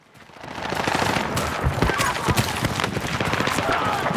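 Gunfire from an M2010 ESR sniper rifle in the video game Battlefield 6, loud sharp shots and cracks heard amid busy battlefield noise, repeated over a few seconds.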